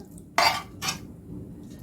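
A ceramic tagine baking dish is brought out and set down, making two quick bright clinks and knocks close by, with quiet kitchen background between them.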